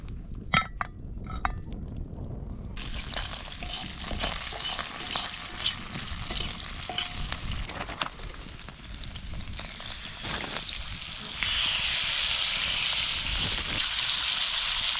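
Food frying in butter and olive oil in a pan outdoors, clinks and stirring at first, then a continuous close sizzle that swells louder near the end, with no speech.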